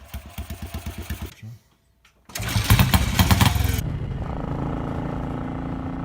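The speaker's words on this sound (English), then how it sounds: "There really was nothing that could match the sound and feel of a Goldstar on the road." A BSA Goldstar single-cylinder motorcycle engine idles with an even thumping beat, cuts out briefly, then revs up loud and settles into a steady running drone close by.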